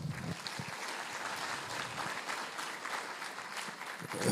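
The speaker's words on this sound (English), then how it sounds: "Give yourselves a big round of applause." Applause from an audience in a hall, steady dense clapping that sits at moderate level for the whole stretch with a faint voice or two underneath.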